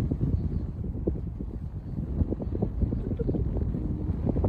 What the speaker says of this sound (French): Il y a plein de vent.